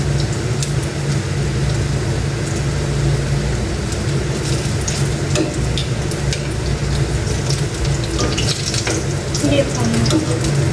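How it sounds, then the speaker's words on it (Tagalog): Eggplant frying in a pan for a home-cooked lunch, a steady close sizzle and crackle running through the whole stretch, with some water-like splashing and clatter over the top. "Nakapag-prito na po si Aya na talong."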